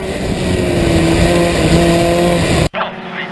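Historic Formula Ford race cars roar loudly past on track at Silverstone, a sustained engine drone with a whine, cutting off abruptly near the end before a quieter tail.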